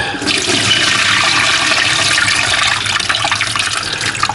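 Running water from a tap pouring steadily and loudly as rice is rinsed in a kitchen, a continuous close rush of splashing water with no talking.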